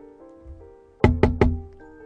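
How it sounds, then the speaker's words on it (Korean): Three sharp, evenly spaced knocks land on a door over a low, eerie music bed in a horror radio drama, loud and close. "노크 소리가 들린 것 같은데요?"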